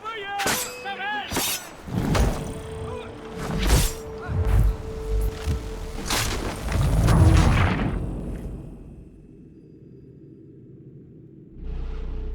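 Several heavy booming cannon blasts in the video game Assassin's Creed go off in irregular succession, each a loud thud with a crashing tail, before things fall quiet.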